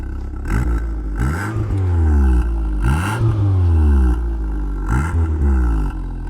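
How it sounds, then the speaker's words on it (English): A VW Golf 2 GL engine revs repeatedly through the exhaust, several rising and falling roars in quick succession, loud and close. "And a little bit of exhaust."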